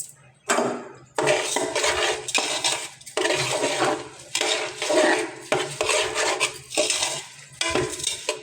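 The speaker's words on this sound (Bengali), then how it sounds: "নেড়ে চেড়ে ভালোভাবে নেড়ে চেড়ে দিতে হবে, যেন তলে না লেগে যায়।" A spoon scraping and clattering against a pot as food is stirred, in steady rough strokes with brief pauses, close and fairly loud.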